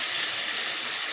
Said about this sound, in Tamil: இது நல்லா பொன்னிறமாக வதங்கணும்.